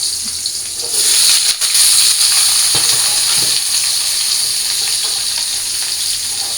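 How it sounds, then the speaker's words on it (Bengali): Drumstick and potato pieces fry in oil in a wok, a loud, close, continuous sizzle broken by a few clicks and knocks of utensils, with no voices. "আমি ডাঁটা আলুগুলো ভাইজা দিয়ে কড়াইয়ের মধ্যে তেল দিয়ে দিছি"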